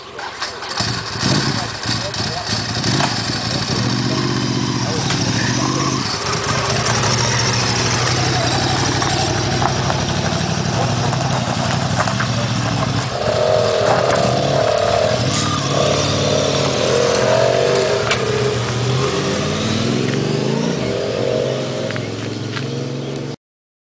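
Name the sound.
Ducati motorcycle engine started, idling and revving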